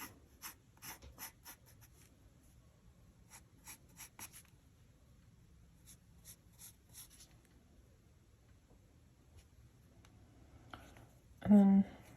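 A pencil sketches Pikachu's pointy ears on paper, producing soft, quiet scratchy strokes in short bursts, with a brief louder knock near the end.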